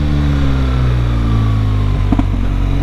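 A motorcycle riding along a road, its engine droning steadily up close with a low rumble and changing tone, joined by a brief burst of other traffic noise near the end.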